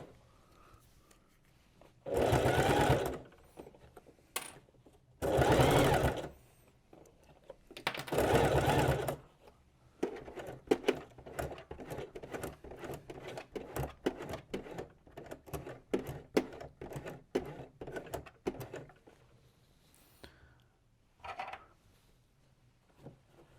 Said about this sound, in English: So now we will sew this on with the classic stitch, needle position in the middle, stitch length 3.